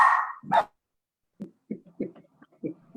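A dog barks during a city council meeting, one loud bark or yelp at the start followed by a second, then quieter scattered sounds and faint talk.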